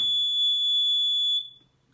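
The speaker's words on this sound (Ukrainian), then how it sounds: "Запищав і більше не пищить." A single sustained electronic beep from an Ergonic HBC Radiomatic concrete pump remote control, high and piercing, holding steady for over a second before cutting off into quiet.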